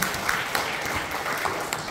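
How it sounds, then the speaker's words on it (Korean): An audience at a Korean knowledge forum claps briefly after an introduction, scattered hand claps forming a short, moderately loud burst of applause. "여러분 큰 박수 부탁드립니다"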